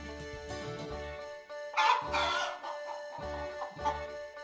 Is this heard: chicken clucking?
yes